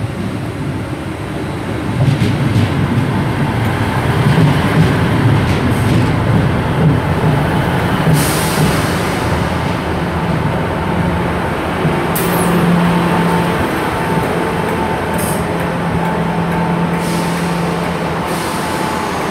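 A Class 158 diesel train pulls into Great Malvern station from Bristol Temple Meads, a loud, steady engine rumble and rolling drone that holds throughout, with faint squeals and clanks above it and no talking.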